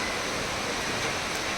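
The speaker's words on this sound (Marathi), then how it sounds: "हे पाऊस तर आता असा कंटिन्यू राहावा" Rain falls steadily, a continuous even hiss with no breaks or voices, heard at moderate level.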